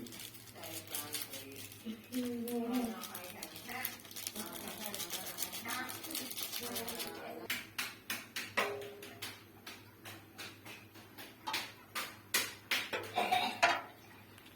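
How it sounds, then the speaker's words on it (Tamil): Black dye powder is stirred in a vessel, heard as a run of sharp clinks and scrapes that quicken toward the end, following a stretch of talking. "பொடியை நல்லா கிண்டிக்கோங்க"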